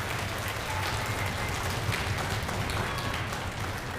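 Audience applause after a sixth grade band's flute section performs at a school concert, a dense continuous wash of clapping throughout, moderately loud.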